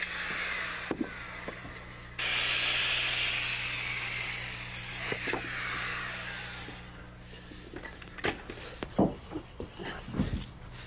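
A power saw set at an angle cuts wooden wall studs and cripples to length, a loud steady whine lasting a few seconds, followed by scattered knocks and handling noises of the lumber.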